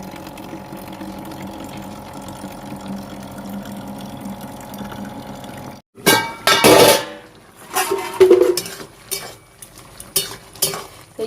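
A pumpkin curry with potato and lote stalks is stirred in a pot. A low steady hum gives way to loud, irregular bursts of metal utensils clattering and scraping against the pot.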